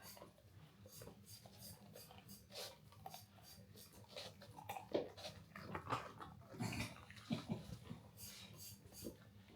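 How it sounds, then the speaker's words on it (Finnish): A dog chews and crunches food up close, with wet smacking and scraping sounds in irregular bursts, fairly quiet overall. "Koira syö."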